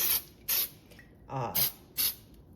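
Baker's Joy baking release spray hitting the bottom of a silicone heart-shaped brownie pan: four short, sharp hissing bursts in a loose rhythm, with a brief spoken voice between them.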